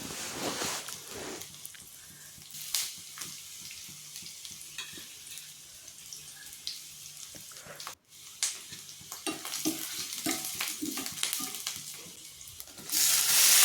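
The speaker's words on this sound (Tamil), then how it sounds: "வெள்ளைப்பூடும் வெங்காயமும் நல்லா வதங்கி வரட்டும்." Garlic and onion sautéing in hot oil for a curry leaf chutney, a continuous crackling sizzle with scraping stirs and clatter, close and moderately loud, swelling louder near the end, no voices.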